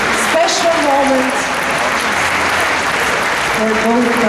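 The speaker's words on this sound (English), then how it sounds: "One more huge applause for this special moment" Dense, steady audience applause at a ceremony in Gyöngyöshalász, continuing at full strength throughout while a voice speaks over it near the beginning and again near the end.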